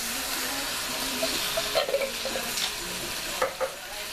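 Canned tomatoes and their juice tip into a pot of white chicken chili, a steady wet pouring and sloshing texture with a few soft splashes and clinks, close and moderately loud, with no talk.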